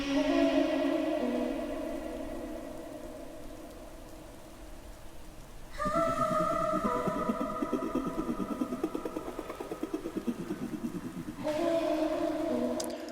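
Ambient effects stems from a music track, airy swelling textures with a soft rhythmic shimmer that drop out and return in sections, steady and fairly quiet with no voices.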